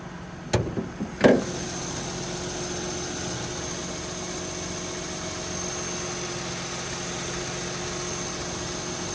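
A 2012 Mercedes-Benz GLK350 4Matic idles steadily with its hood open, giving a continuous even engine hum after two brief knocks at the start.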